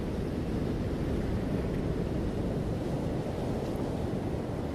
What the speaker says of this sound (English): to be emptied by the sound of these waves